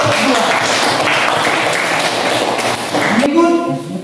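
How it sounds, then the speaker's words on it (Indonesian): Classroom applause from a group of students for a presenting group during a school lesson, steady clapping filling most of the moment before it fades and a voice begins speaking at the end. "sekali lagi kita tepuk tangan untuk kelompok"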